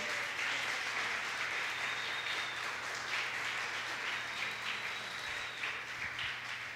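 A church congregation applauding, steady distant-sounding clapping that runs evenly throughout at a fairly low level, with a faint hum underneath.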